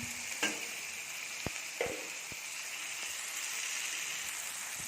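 Fried potatoes with spices being stirred and fried in a pan, a soft continuous sizzle with a few scattered clicks and spoon knocks, fairly quiet and close.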